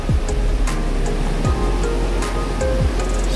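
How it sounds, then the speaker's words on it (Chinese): Guanyin Waterfall at Zhuqi, Chiayi, a large, powerful fall, gives a continuous roaring wash of water heard close and loud, with a few faint higher sounds over the steady rush. "好大的瀑布哦"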